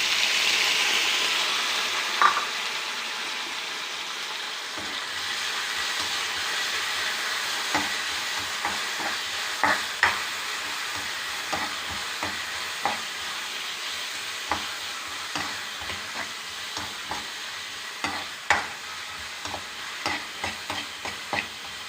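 Cooked plantain and Chinese potato with onions are mashed and stirred in a pan, giving a soft, continuous sizzle under repeated sharp clicks and scrapes of a utensil against the pan at an uneven, steady pace.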